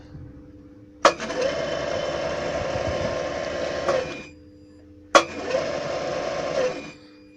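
A machine-shop motor driven by a frequency inverter starts with a click, whirs steadily for about three seconds, stops, then starts again with another click and runs on, a close mechanical hum with no talk.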